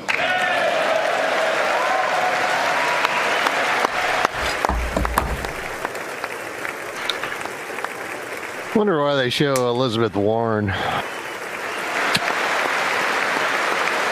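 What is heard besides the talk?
applause at State of the Union for Buzz Aldrin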